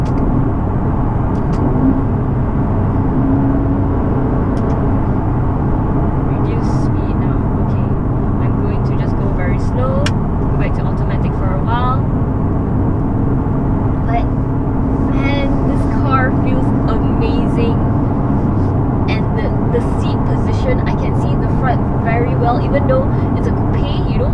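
A 2019 Aston Martin DB11 V8 downshifting in Sport Plus mode gives a steady, loud engine drone from inside the car, continuous throughout with a voice talking over it.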